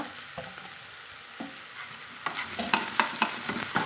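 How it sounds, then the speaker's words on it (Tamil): Chopped ridge gourd sautés in hot oil for a milk curry kootu, giving a steady close sizzle with scattered spatula scrapes and taps that grow busier toward the end. "சேர்த்து நல்லா எண்ணெயில் வதக்கி விட்டுக்கலாங்க"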